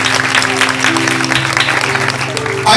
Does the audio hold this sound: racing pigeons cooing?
no